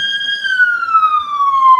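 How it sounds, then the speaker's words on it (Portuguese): An ambulance siren sweeps past loud and close as one long wailing tone that slowly falls in pitch while it goes by. "Espera um pouquinho que tá passando uma ambulância aqui"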